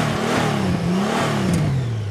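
A 2019 Honda GL1800 Goldwing Tour DCT motorcycle engine revs steadily, its loud, continuous mid-range drone rising and falling slightly in pitch, heard alone without talk.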